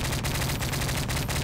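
Gunfire in Modern Warfare 3 as a player shoots through bushes: loud, sustained automatic bursts with sharp repeated cracks, continuous for the whole moment with no talking.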